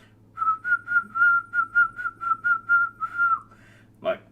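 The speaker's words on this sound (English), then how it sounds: "Can I whistle the end credits theme song?" A person whistles the end credits theme from the classic Doom game, a run of about a dozen clear, evenly paced notes, close and alone, ending in a brief breathy sound.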